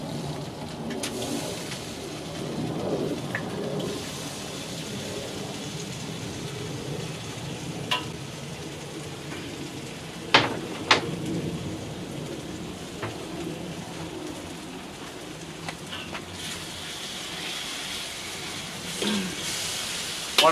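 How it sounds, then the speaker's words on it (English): Mongolian beef sizzles steadily in a hot pan, a continuous hiss broken by a few clanks of a utensil scraping and stirring. "So now I'm going to take the meat and scrape it back into the pan."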